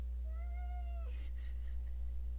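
A single drawn-out cat meow, clear and close, followed by a few soft rustling sounds against a steady low hum.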